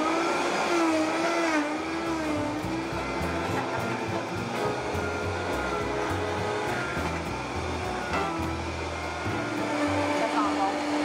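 A Vitamix blender whirs steadily while blending apple pieces for an apple tart, a loud continuous motor drone with slight pitch shifts as the load changes, and a voice briefly talking over it.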